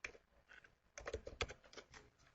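Someone types on a computer keyboard while entering a network device configuration command. A close, quiet run of uneven key clicks comes in quick bursts, and the strikes get denser in the second half.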